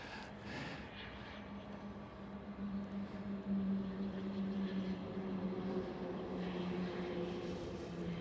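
A large airliner at Amsterdam Schiphol airport, its distant engine roar a steady low drone with a tonal hum that swells slightly and lingers, heard faintly from afar with no talk.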